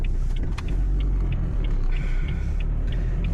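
An old Citroën car rumbles past on a street, a low steady engine drone held close and loud throughout, with faint higher clicks above it.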